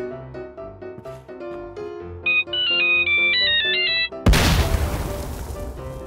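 A phone bomb in the PUBG video game plays a bright electronic ringtone melody for about four seconds, then a loud explosion bursts and rumbles away as the blast debris fades.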